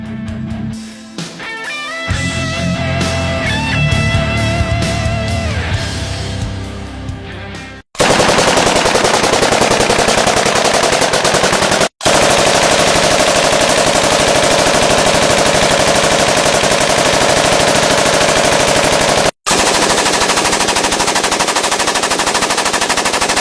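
Eastern Bloc military weapon firing long, loud, continuous bursts of automatic gunfire, with brief gaps between strings of shots, preceded by a few seconds of musical sound.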